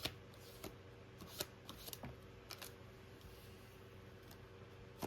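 Tarot cards being shuffled by hand, a run of soft riffling and flicking bursts close to the microphone, faint and quiet with short pauses between, no voices.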